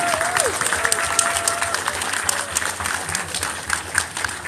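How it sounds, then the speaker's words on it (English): A large crowd at a convention closing ceremony claps continuously, thick and even applause filling the whole stretch, with a brief whistle early on. "a round of applause for our staff"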